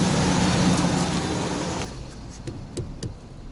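Toyota on 245/35/20 rims pulling away, a loud broadband road and engine rush that drops off partway through, leaving quieter interior noise with a few faint clicks and knocks.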